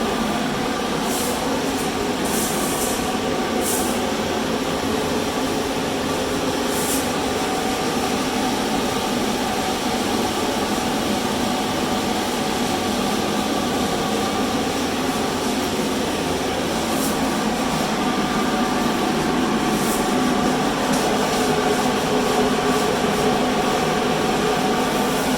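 An OrangeA 10-inch portable high-velocity ventilation blower fan runs steadily at close range, giving a loud, constant broadband roar with no pauses for the whole span.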